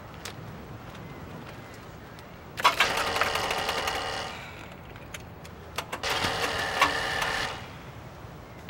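A rough, rattling motorcycle engine chugs in two bursts, sputtering loudly for a few seconds each, separated by a quieter idle with scattered clicks.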